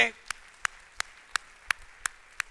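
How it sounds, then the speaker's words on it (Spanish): A church congregation claps during a worship service, heard as sharp, evenly spaced single claps about every third of a second, distinct and fairly close against a quiet background. "Dele un aplauso al Señor"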